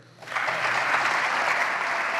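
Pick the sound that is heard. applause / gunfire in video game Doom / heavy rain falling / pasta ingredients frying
applause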